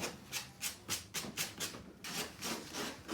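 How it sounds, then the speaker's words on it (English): Sandpaper rubbed by hand along the edges and corners of decoupaged wooden furniture, giving a steady series of soft, close rasping strokes at an even rhythm. "just gently sand your edges and your corners"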